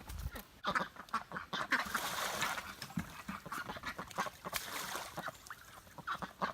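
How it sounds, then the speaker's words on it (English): Several ducks quack busily nearby in a rapid, overlapping run of loud calls that continues throughout, with no talk. "I guess I'll have the ducks to keep me company."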